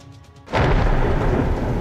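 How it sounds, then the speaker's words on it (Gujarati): Heavy monsoon downpour with thunder across Gujarat: after a quieter half second, a loud, dense roar of rain and rumbling thunder bursts in and holds steady, close and continuous, with no voices. "સમગ્ર ગુજરાતમાં અનરાધાર વરસાદ વરસી રહ્યો છે"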